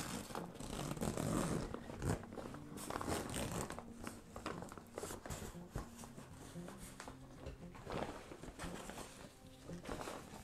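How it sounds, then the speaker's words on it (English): A zipper on a rugged carrying bag is pulled open in several rasping strokes, close and fairly loud, mixed with crinkling and handling noise and no talk. "So I'm going to unzip it and see what we get here."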